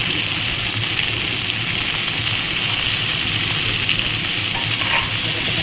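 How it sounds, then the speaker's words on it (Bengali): Steady, loud sizzling of mixed vegetables with salt and turmeric frying in a pan, with scraping stirring noises running throughout and no talking. "ভালো করে সবজিগুলোকে দিয়ে ভেজে দিতে হবে"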